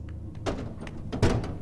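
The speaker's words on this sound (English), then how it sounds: "We opened the door." A door opening in the video game Five Nights at Freddy's: Sister Location, heard as two soft, dull thumps a moment apart, each with a brief rush of noise, close and moderately loud with no talking.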